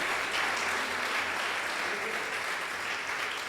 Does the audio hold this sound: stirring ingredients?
no